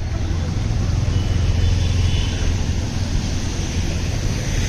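Vehicles drive through a flooded Degloor road in heavy rain, a loud, steady wash of engine noise and churning water mixed with wind rumble, continuous throughout.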